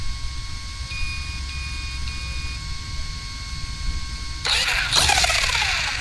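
A UDIRC SnowClaw 1/16 scale 4WD monster truck on a 3S battery sits with faint electronic tones before its small electric motor suddenly whines up with a loud, bright burst of throttle near the end.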